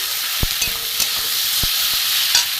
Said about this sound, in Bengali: এখানে আমার গ্রেট করা আলু আছে, এটাও দিয়ে দেবো। দিয়ে একসাথে আমি ভাজবো।